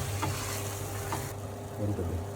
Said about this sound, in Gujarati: જો ટામેટા નાખી દીધા છે અને મિક્સ કરી લઈશું